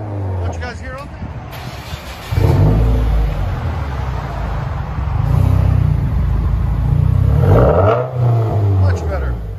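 A Subaru WRX Turbo with a straight pipe exhaust revs close by, booming up in loud throaty bursts and settling back between them, with people talking over it.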